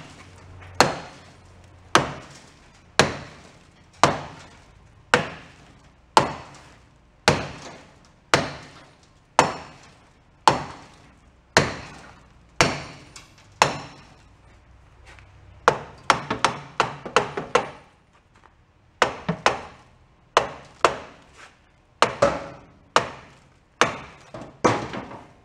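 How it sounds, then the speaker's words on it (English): A sledgehammer pounds on an abandoned VW Bug in a leaking wet garage, loud sharp metallic impacts struck at a steady pace about once a second, then a quicker flurry of blows and a few more spaced hits. "Beating it with a sledgehammer might make it submit."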